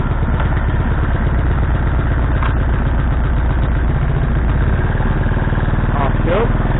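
A Honda water pump engine runs on choke, a loud, steady, rapid chugging idle with a clattering edge, continuous from start to finish, with brief clinks near the end.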